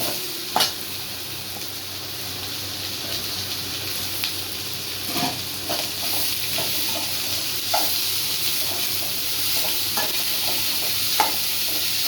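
Snake gourd being stir-fried in a pan with sautéed seasoning for a chana dal kootu: a continuous low sizzle with irregular spatula scrapes and taps against the pan, close-up and without talk.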